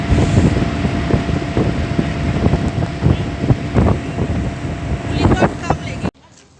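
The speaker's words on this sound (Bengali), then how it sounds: "প্রচণ্ড হাওয়া" Strong wind roars and buffets the microphone during a jungle safari ride through Gorumara forest, loud and gusty throughout, with a rumbling vehicle and bursts of speech underneath before it cuts off abruptly.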